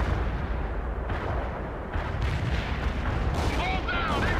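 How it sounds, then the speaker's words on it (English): An artillery barrage in World in Conflict rumbles with heavy, repeated booms and blasts over a continuous low roar, with brief whistling tones near the end. "Artillery barrage hit for full effect."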